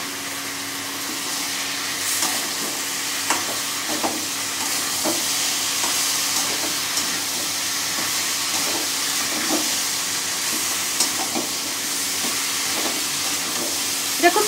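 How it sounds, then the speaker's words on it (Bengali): Soft ridge gourd and thinly sliced potatoes are stir-fried in a pan. A continuous loud sizzle runs throughout, punctuated by scattered taps and scrapes from stirring. "ঝিঙেটা দিয়ে আমি কষাবো।"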